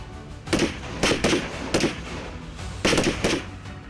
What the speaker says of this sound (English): followed by a final charge and assault with small arms, including grenades